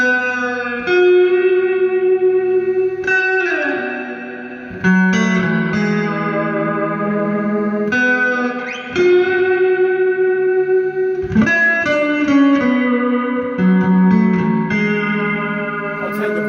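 A custom Fender Telecaster played clean through a 1981 Fender Pro Reverb amp gives ringing chords and single notes with a reverb tail, loud and close, strummed in phrases with brief pauses.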